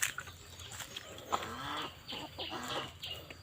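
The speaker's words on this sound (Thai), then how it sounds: "ตอนนี้ก็เอาไก่หนุ่ม ไปลองใส่ขึ้นก่อนแล้วครับ" A young rooster with white earlobes on a farm makes soft, repeated clucks and short calls, faint and nearby against quiet outdoor background.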